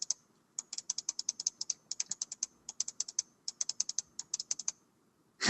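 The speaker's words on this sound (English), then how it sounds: "Someone's cat stepped on their keyboard." Rapid bursts of computer keyboard keys pressed in irregular clusters, like a cat walking across the keys, with brief pauses between groups and a louder clatter at the very end.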